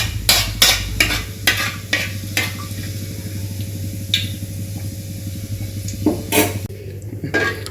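Soft sizzling of fennel seeds in hot oil runs underneath repeated sharp scraping and clinking of a metal spoon stirring in a pan.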